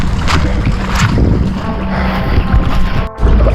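Paddling an Old Town Sportsman 120 pedal-drive kayak on Lake Erie, with water splashing and sloshing against the hull amid steady wind noise, close and continuous, with a brief dropout near the end.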